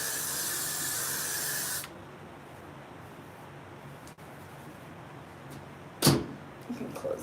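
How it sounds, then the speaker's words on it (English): Hairspray hisses from an aerosol can in one long continuous spray lasting nearly two seconds, followed by quieter room sounds and a brief thump. "Okay, hairspray."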